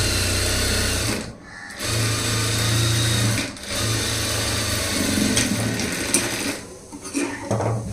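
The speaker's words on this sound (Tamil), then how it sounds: "அடுத்து நம்ம பிரிக்கிறதுக்கு டபுள் தையல் போட்டுடலாம்." A sewing machine stitches a double seam on a blouse, running in steady buzzing bursts with a low motor hum, pausing briefly twice, then finishing with a stretch of shorter, uneven runs.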